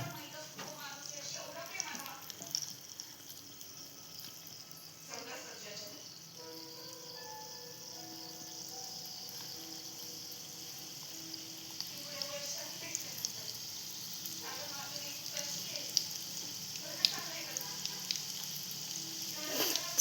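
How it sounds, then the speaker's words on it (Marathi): Snack mixture with crushed green chilli and garlic frying in hot oil gives a continuous soft sizzle with occasional stirring clinks, while someone talks over it throughout. "आता तेल तापलं की आपण त्यात सोडून घेणार आहोत ना."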